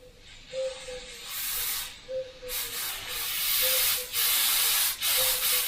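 An airbrush with a Mac valve sprays in repeated bursts of loud, close hiss, each burst starting with a short tonal note as the valve opens.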